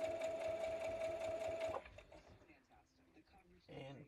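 Sewing machine stitching a quilt block, running with a steady whirring hum that stops partway, followed by softer handling noises and a brief voice.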